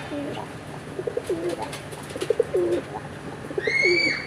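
Big-sized Cheeta Royal nun pigeons coo in a series of soft, low, repeated calls at moderate distance, followed by a brief high whistling tone near the end.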